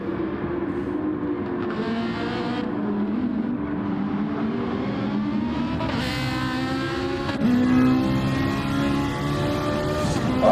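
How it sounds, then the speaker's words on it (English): Ferrari race car engine in a DTM race, a loud continuous roar with rising and falling revs through gear changes, steady and close throughout, with other cars behind. "Let's hear that Ferrari engine and see the view to the cars behind."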